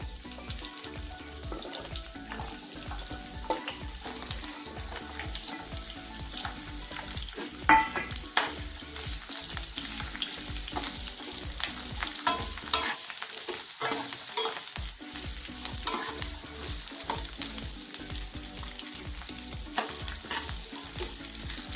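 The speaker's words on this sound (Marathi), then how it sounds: "ही फ्लावर आहे, ही आपल्याला हलकीशी तेलामध्ये परतून घ्यायची आहे।" Cauliflower florets sautéing in oil for a potato and pea dry vegetable dish, a steady close sizzle with scattered stirring clatter and a brief quieter moment partway through, no voices.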